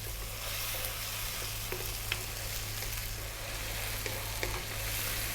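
Soy sauce sizzles hard in a hot pan for chicken chow mein, a loud steady hiss that goes on without a break, with a few faint clinks over it.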